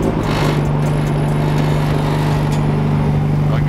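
A drift car's engine revs steadily with a strong droning tone through a quieter exhaust, loud and close, sustained without a break.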